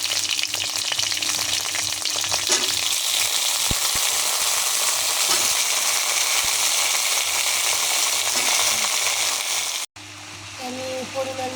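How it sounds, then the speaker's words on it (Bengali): Small sour mangoes are tipped into a pan of frying chilies, and a loud, steady sizzle of hot oil fills the scene close up, dropping briefly before resuming with light stirring clatter. "এখন আমি আমগুলো দিয়ে দেবো। কেটে ধুয়ে রাখা আমগুলো দিয়ে দিলাম।"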